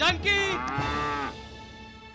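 A cow bellows in a long, loud, harmonic moo that rises and then slowly fades, close by, with a voice briefly speaking at the start.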